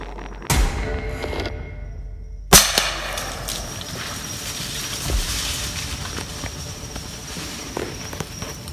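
A Traditions Crackshot XBR rifle fires once with a sharp, loud report, followed by a second close crack a couple of seconds later and faint outdoor movement afterward.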